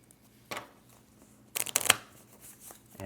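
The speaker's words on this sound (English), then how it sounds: "The next step is to shuffle your deck." A short riffle of cards near the mic, a quick burst followed by a second fuller flurry of snapping cards, then quiet handling sounds.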